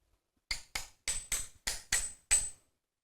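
A craftsman taps a wooden woodworking plane with a hammer to adjust its blade in a Korean instrument workshop, seven crisp, bright taps spaced closely and evenly in a quiet room.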